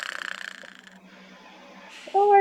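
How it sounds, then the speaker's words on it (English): Snoring in a horror visual novel video game, a run of rapid rhythmic snorting breaths that fades out, followed by a brief tonal game sound at the end. "that actually sounds like someone snoring"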